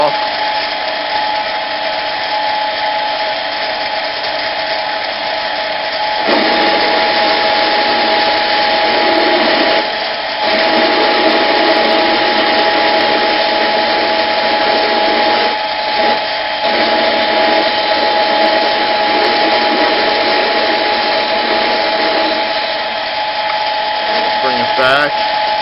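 Harbor Freight 7x10 mini metal lathe turning down a metal workpiece by hand feed, a steady close motor whine with a high tonal hum that shifts slightly as the cut changes, continuous and fairly loud.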